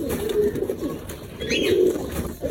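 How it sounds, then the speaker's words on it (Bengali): A young Giribaz pigeon coos softly and repeatedly at close range, low rolling murmurs against faint background noise. "খুব মাশাআল্লাহ সুন্দর একটা কবুতর।"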